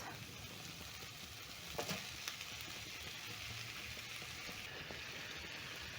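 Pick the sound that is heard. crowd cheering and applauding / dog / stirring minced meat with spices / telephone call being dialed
stirring minced meat with spices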